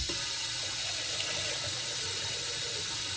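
Water gushes steadily from the hot water tap inside a 2001 Monaco motorhome, a constant loud hiss and splash with no pauses or voices.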